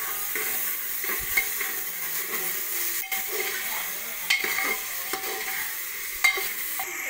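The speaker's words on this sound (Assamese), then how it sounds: "আলু সৰু সৰু আলু লৰাই দিম এতিয়া" Thinly cut potatoes frying over a high gas flame as they are stirred, a constant bright hiss and sizzle with a few light scrapes and taps, close and steady.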